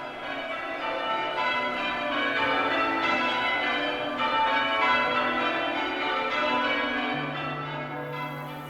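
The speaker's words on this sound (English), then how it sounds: "Our bells are worn threadbare with ringing for victories." Bells ring in a dense, overlapping peal, steady and resonant throughout, at moderate distance with no voices.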